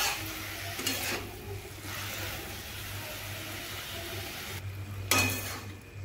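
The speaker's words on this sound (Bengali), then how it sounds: "নুন হলুদগুলোকে এইভাবে ভালো করে শাক, বেগুন ও আলুর সঙ্গে মিশিয়ে নেব।" Red amaranth greens with eggplant and potato, salted and turmeric-coated, sizzling in a pan as they are stirred; a steady close hiss broken by a couple of sharper scraping bursts.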